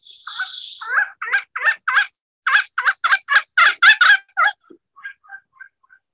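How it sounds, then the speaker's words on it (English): A chestnut-backed chickadee gives a quick series of about a dozen short, buzzy chattering notes, close and clear, then a few fainter trailing chips. "Chestnut back chickadee."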